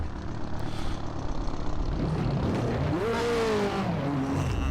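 A race car engine in Assetto Corsa, running a 1985 to 1992 Australian Touring Car Championship mod, drones steadily and loudly, with the pitch of a single car climbing and then holding as it accelerates.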